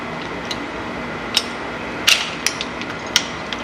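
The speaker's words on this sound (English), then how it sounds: "we need to force this push rod cover up and in. We've got a screwdriver that's got some tape on it" A tape-wrapped screwdriver forces a pushrod cover up into place on a Fuel Moto 107 big bore Harley engine, giving a few sharp metallic clicks and taps scattered over a quiet background.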